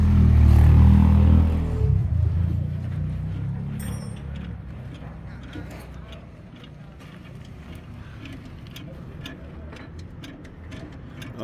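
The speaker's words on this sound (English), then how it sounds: "It was actually tightening the brake shoe." A vehicle brake shoe being tightened: a low mechanical rumble at the start fades into a run of small, sharp clicking ticks that grow denser toward the end, nearby, with no speech.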